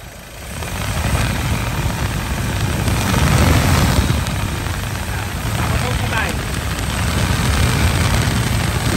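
A car engine with a clutch fan runs steadily and loudly up close, producing a dense whooshing roar that swells slightly in the middle of the recording. A person speaks briefly over the noise.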